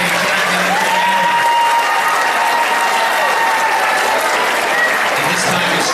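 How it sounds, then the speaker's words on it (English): Talent show audience gives a steady round of applause, an even wash of clapping filling the room at constant loudness, with a faint tone lingering in the background. "Let's give another round of applause to Riley,"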